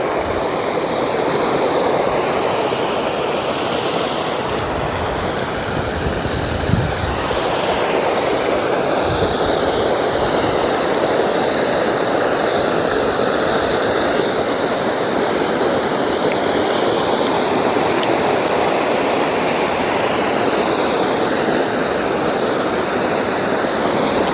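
Water pours heavily over Dantiwada Dam in Gujarat, a loud continuous roaring rush that stays steady throughout, heard up close with no voices.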